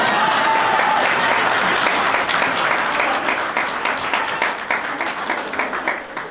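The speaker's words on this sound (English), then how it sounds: "You can clap if you want." An audience at a paranormal-debunking convention talk breaks into loud, sustained clapping that thins and fades toward the end.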